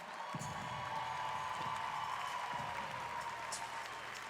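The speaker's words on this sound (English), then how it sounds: "A big round of applause for our 2023 Noble CrossFit Games champion, Jeffrey Adler." Crowd applause and cheering at the 2023 CrossFit Games for the newly crowned champion, a steady wash of clapping held at an even level from start to finish, with scattered whoops and a low hum of voices.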